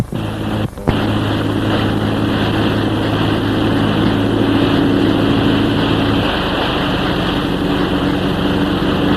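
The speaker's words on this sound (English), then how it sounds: "Just listen to that engine." A boat engine drones steadily and loudly after a brief knock at the start, a constant mechanical hum with a slight shift in tone near the end.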